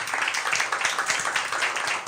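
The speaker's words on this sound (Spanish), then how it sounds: "Le doy otro aplauso al Señor si usted puede." A church congregation claps together during a worship service, a dense, steady wash of many hands that stays even and fairly close throughout, with no voices rising above it.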